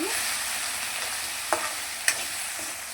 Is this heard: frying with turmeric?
yes